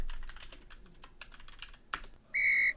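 Close computer keyboard typing, a quick irregular run of light key clicks with one sharper tap, ending in a brief high whistling electronic tone.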